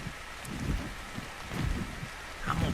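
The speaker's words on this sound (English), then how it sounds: "It is raining." Steady rain falling outdoors near a creek in ARK: Survival Evolved, a soft continuous patter with low rumbling swells, quiet and without talk.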